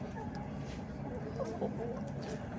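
Hens cluck softly and intermittently while pecking at sprouted wheat, over a steady background of outdoor noise, with no voices present.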